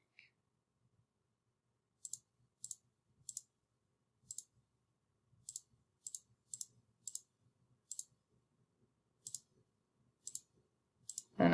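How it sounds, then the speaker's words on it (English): Calculator buttons tapped in quick succession while entering the values of a 2x4 matrix, a string of about fifteen crisp plastic clicks in uneven bursts, fairly quiet against a faint low background hum with no talking. "I'll try to type these in as quickly as I can without messing up"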